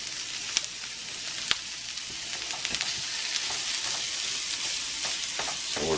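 Leafy greens and bacon frying in a pan, a steady broadband sizzle with occasional sharp pops and crackles and light stirring, close and continuous without talk.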